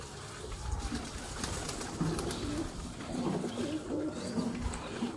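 Sialkoti pigeons coo from a cage, soft repeated throaty calls in a low rolling rhythm, fairly close, over a busy background of shuffling and faint noise.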